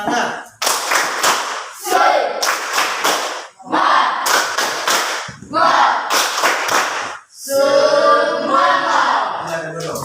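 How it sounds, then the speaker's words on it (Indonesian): A school class stands and performs a rhythmic spirit clap. Loud bursts of patterned group clapping alternate with shouted chants in unison, close and energetic, and the clip ends on a long sung group cry. "Tepuk semangat."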